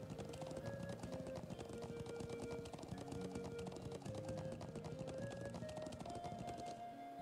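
Galloping horse hooves in Trails of Cold Steel, a steady rapid clip-clop running throughout over a sustained melodic game music score, with no voices.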